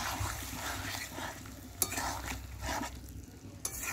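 Mutton is sautéed and stirred in a pot, a soft continuous sizzle under rhythmic scraping strokes of a spoon, with a couple of sharper clinks against the metal, close and fairly quiet.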